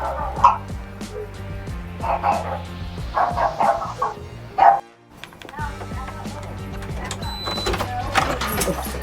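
A dog barks in sharp bursts at a front door over a busy, cluttered background with voices mixed in, then a brief pause before the noise resumes.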